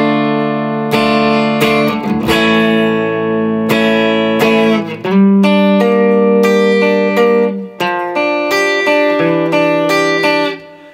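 Electric guitar playing the bridge of a song, a clear picked melodic line of ringing notes with some sliding and sustained tones, loud and alone.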